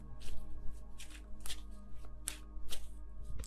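Tarot cards being handled and dropped, with repeated crisp shuffling and flapping bursts in an uneven rhythm over a steady low hum, close and fairly quiet.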